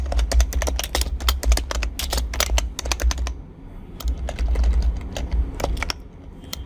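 Rapid typing on a computer keyboard, close-up bursts of crisp key clicks with brief pauses between runs, alone without talk.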